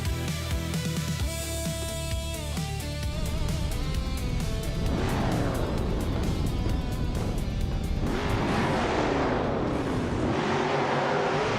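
Vintage supercars racing at Monza Vintage Oval in a racing video game, a continuous loud engine roar with rising and falling pitch as cars pass, accompanied by music throughout.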